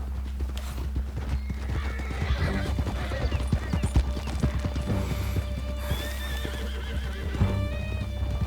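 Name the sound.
horse galloping and neighing in Red Dead Redemption 2 video game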